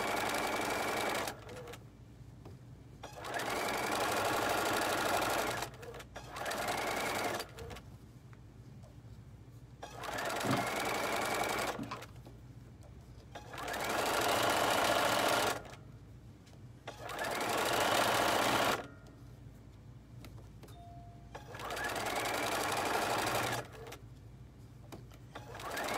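Sewing machine stitching hat fabric in five or six loud, steady bursts of several seconds each, with quiet gaps between them and a low hum underneath throughout.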